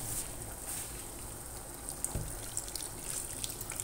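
Water poured from a tap into a cooking pot holding wine-braised chicken and vegetables, a steady close splashing and trickling stream with a few drips, with no talk.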